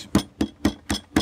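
An old kitchen hammer pounds meat for cordon rouge with country ham and spicy cheese, striking five times in an even rhythm about a quarter second apart. Each blow is a close, loud, solid thud with no talk.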